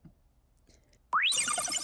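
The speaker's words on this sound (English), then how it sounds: "It turns to a happy face with a giggle sound." A micro:bit pet hamster program plays a short electronic giggle when its logo is pressed: a quick rising chirp followed by a bright, bubbly trill, loud and alone after near silence.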